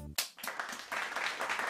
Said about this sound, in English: Can somebody give me a clap of hand?